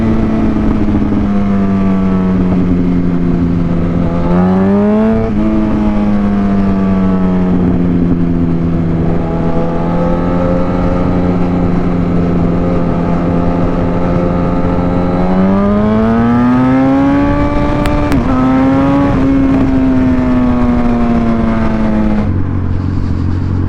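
A Yamaha R1 sport motorcycle on a ride, its engine droning loud and close with rising and falling revs as it accelerates through gears, steady wind roar throughout and no talk.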